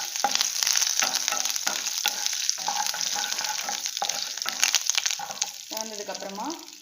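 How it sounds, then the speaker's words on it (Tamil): Urad dal and curry leaves fry in hot oil for a taro root roast, a steady close sizzle with spoon scrapes and stirring clatter throughout. "அதுக்கப்புறம் 2 நிமிஷம் உளுத்தம்பருப்பு செவக்கட்டும்."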